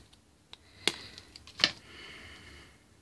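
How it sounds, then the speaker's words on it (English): Two or three sharp, crisp snips of scissors trimming paper close by, separated by brief pauses, over a quiet background. "I just take a pair of scissors"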